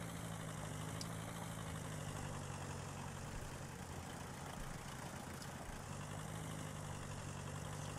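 A car engine idling in The Long Drive video game, a steady, quiet, even hum with a constant low drone and no change in pitch throughout.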